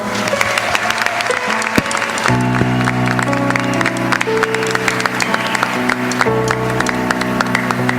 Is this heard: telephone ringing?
no